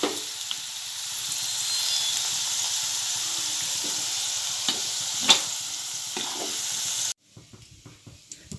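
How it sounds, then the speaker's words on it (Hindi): Masoor lentils fry over full flame in a pan with a steady close hiss and sizzle, a few stirring clicks breaking through, until the sizzle cuts off abruptly near the end and leaves faint clatter. "ये देखिए मसूर अच्छे से फ्राई हो गए हैं। इसे तकरीबन मैंने 2 मिनट तक फुल आंच पर अच्छे से फ्राई करके ली हूँ।"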